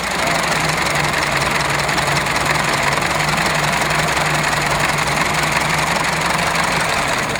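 A 1909 Buick valve-in-head engine idles steadily with a low hum and a faint rhythmic knock, close and constant throughout.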